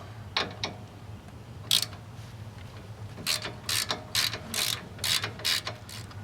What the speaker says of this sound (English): I just use my 1/4" ratchet on that.